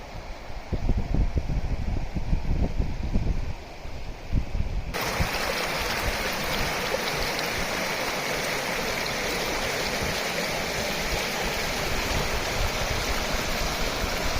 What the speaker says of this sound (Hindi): ये खूबसूरत बहता पानी